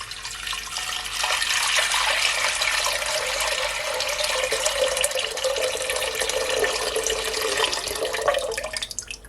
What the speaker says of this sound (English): So now I'm gonna add some cold water.